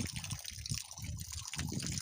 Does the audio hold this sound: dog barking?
no